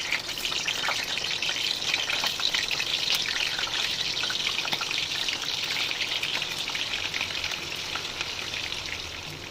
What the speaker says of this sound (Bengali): এবার আমি পনিরগুলোকে ভেজে নেব।